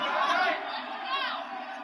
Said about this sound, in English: Something weird going on with the crowd noise again.